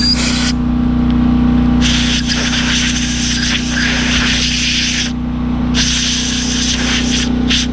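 Spray blasting onto brake parts of a 2015 Nissan Altima to dry them, loud hissing bursts that stop and restart several times over a steady low background hum.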